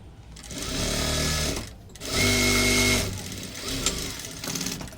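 A sewing machine runs in two loud, steady bursts while stitching the side seam of a four-tuck blouse, pausing briefly between runs and followed by quieter intermittent stitching, with no talk.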